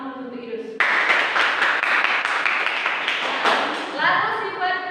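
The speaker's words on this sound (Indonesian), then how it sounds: "Tepuk tangan untuk Idus." Hands clapping together in a church lesson setting, a burst of fairly steady applause following a brief stretch of speech and trailing off as a voice resumes.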